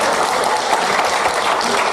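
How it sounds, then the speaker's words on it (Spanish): A church congregation claps together during a service, a loud, continuous wash of applause with no individual voices standing out. "Gloria, denle palmas a Él."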